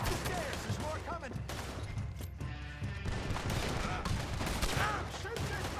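Gunfire crackles through a gunfight in the video game Red Dead Redemption 2, with rapid volleys of shots packed densely and loudly across the whole stretch while voices shout over the shooting.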